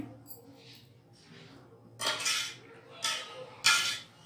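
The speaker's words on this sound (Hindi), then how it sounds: "बिल्कुल हल्के हाथ से इसको मिक्स करेंगे हम।" Chutney biryani being gently mixed in a pot, heard as three soft scraping, clinking strokes of a utensil against metal after a quiet start.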